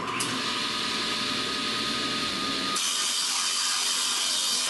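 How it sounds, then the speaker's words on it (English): A table saw cuts wood for a potting bench shelf project, a steady loud whine that runs throughout and drops to a thinner, brighter tone partway through as the blade finishes the cut. "so now it's off to the table saw that is already set up for the cut"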